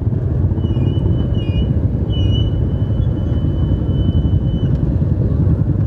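Motorcycles and cars idle and creep along in heavy traffic during a motorcycle anniversary gathering in Clark, Pampanga, making a loud, continuous engine rumble close by, with faint higher whines above it.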